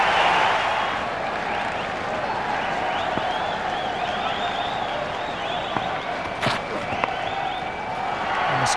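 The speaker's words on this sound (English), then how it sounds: "all of a sudden the Indian crowd and the southern stand go wild" A cricket crowd in the southern stand at a one-day international between Australia and India cheers and applauds steadily throughout, a broad roar of clapping and voices with a few sharper whistles and shouts rising above it.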